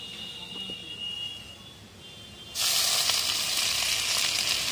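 Chopped susuni greens are dropped onto garlic fried in oil, and a gentle sizzle suddenly surges into a loud, bright, crackling hiss that continues steadily close by.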